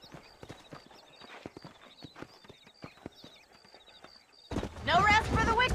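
Galloping horses in the Western video game Red Dead Redemption, with a steady clip-clop of hooves running through the first few seconds before louder voices take over at the end.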